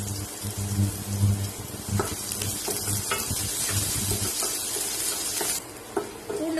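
Onions and garlic fry in hot oil with mustard seeds, curry leaves, dried red chillies and asafoetida for a yam curry, giving a steady close sizzle broken by stirring scrapes and clinks, with no talking.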